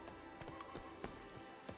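In the video game Witcher 3, a horse's hooves clip-clop in a steady, fairly quick rhythm of distinct close thuds, quiet and alone.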